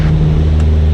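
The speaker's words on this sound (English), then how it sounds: "You hear how the engine runs smoother all of a sudden" Steady, loud drone of a Mooney M20J-201 piston engine in cruise flight, a smooth continuous hum with strong low tones heard from inside the cabin, with no talk.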